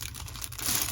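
A fabric drawstring shopping bag is folded up by hand, a brief soft rustle and crinkle lasting about a second, close and fairly quiet.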